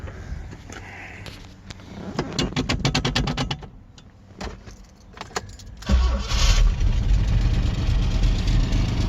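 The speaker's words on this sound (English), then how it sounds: "why don't I fire this thing up and run the suspension" A 1972 Citroen SM is started: clicks and a cranking stretch give way at about six seconds to a loud, steady idle close by, with no talk.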